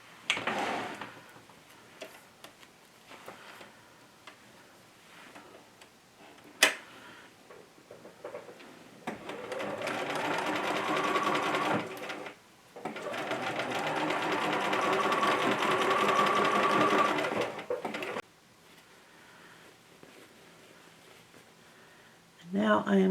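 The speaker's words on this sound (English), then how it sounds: "I'm going to line this up and stitch straight down here like this," A sewing machine stitches a straight seam through fabric while making a small fox-shaped pin keep. Two long steady runs of whirring stitching are heard up close, with quieter handling and talk between them.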